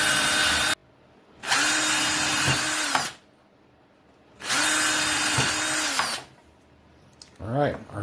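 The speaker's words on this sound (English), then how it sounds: "But I'm go ahead and drill a hole with a sacrificial chunk of wood underneath there." Power drill boring a hole through leather with a sacrificial scrap of wood underneath on a kitchen table, two loud sustained bursts of whirring a few seconds each, with a brief clatter afterward.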